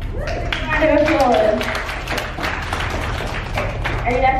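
A school audience gives a loud round of applause, a dense burst of many hands clapping at once close by, with voices mixed into the crowd noise.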